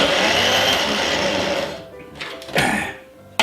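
A kitchen blender whizzes a protein ice cream mixture, a loud steady whirr that sags and cuts out, then briefly surges again.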